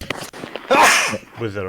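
A single sudden, forceful sneeze bursts out close by, set between bits of speech from people talking.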